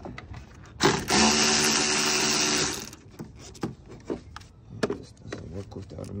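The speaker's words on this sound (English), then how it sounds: "actually you do need a socket wrench" Socket wrench working on radiator bolts of a 2006-2010 Dodge Charger: a loud whirring ratchet burst of about two seconds, followed by scattered clicks and clanks among other noises.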